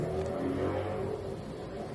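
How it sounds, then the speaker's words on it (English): Car engines revving out on Sepulveda street, a continuous low rumbling drone with a steady, slightly swelling roar throughout, distant rather than close. "people are revving their engines in an obnoxious way out on Sepulveda"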